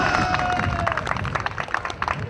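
Audience applause at a French triplette pétanque championship in Bagnols-sur-Cèze: a steady patter of many hands clapping at moderate distance, holding fairly even throughout the brief stretch.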